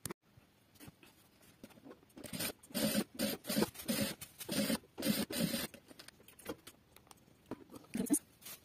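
A sewing machine stitches patchwork fabric strips for a small quilt with a 1 cm seam, running in short rapid mechanical bursts with brief pauses between them, near and fairly quiet, with light handling noises around the runs.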